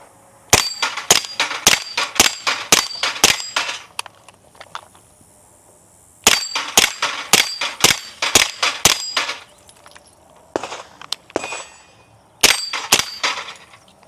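Suppressed home defense rifle with a holographic sight firing rapid strings of sharp, clanging shots: three volleys of five to eight quick reports separated by pauses, loud and close, with a few scattered single shots between.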